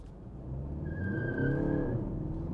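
A 2025 BMW 120d diesel hatchback drives at close range, its engine note building and strengthening as it pulls, with a brief thin tyre squeal or whine riding over the low rumble and no talking.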